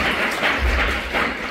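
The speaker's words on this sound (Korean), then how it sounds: "우리 잠깐 한번 일어나서 박수로 환영하도록 하겠습니다" A church congregation claps in welcome, a dense, steady patter of many hands that fills the room, short and fairly loud, with no clear speech.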